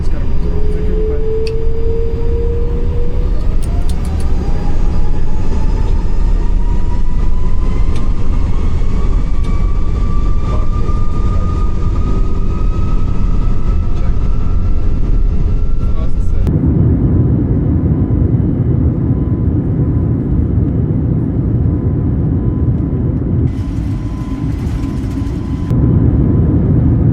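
An Airbus A320 taking off at Paro in Microsoft Flight Simulator 2024: a loud, steady engine roar with a rising whine as thrust builds, filling the whole stretch before the tone drops away.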